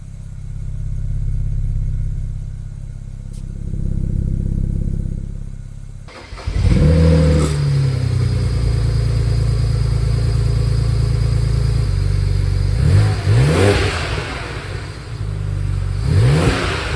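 A BMW 335i with a fuel pressure fault, recently repaired, cranks and fires up loudly after a low idle rumble, then settles into a steady idle with several sharp revs near the end, close by and without speech.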